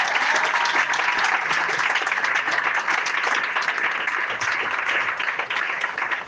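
A church congregation at a Sunday service bursts into loud, sustained applause. Many hands clap steadily and densely for the whole stretch, close and full, with a faint voice underneath.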